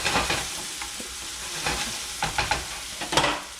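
Mushrooms, onions and bacon sizzling in a pan as omelette filling, a dense continuous hiss with occasional scraping stirs breaking through near the end, close and steady with no speech.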